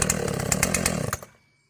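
Makita EA7900P chainsaw fitted with a different carburetor, running loud and close with a rough, pulsing engine buzz that cuts off abruptly and fades to silence.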